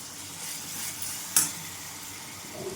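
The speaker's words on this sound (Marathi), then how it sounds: "आता कोथिंबीर पेस्ट टाकून घेते याच्यामध्ये" Coriander paste sautéing in hot oil for a green coriander rice, a steady soft sizzle with one sharp utensil tap near the middle, close and moderately loud, no talking.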